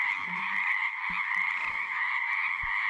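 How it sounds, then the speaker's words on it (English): A male frog in the wild croaks over a steady, dense trilling chorus, with a few short, deep croaks breaking through close by. "we have now captured yet another frog"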